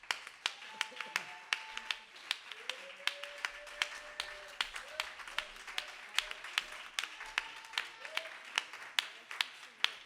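A church congregation at a Father's Day Sunday service claps steadily through the whole stretch, with sharp repeated hand claps, a few voices calling out, and a sustained vocal tone under the clapping.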